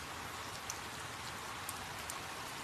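Heavy rain pours down in a constant, dense hiss with scattered louder drops, steady and near, with no voices.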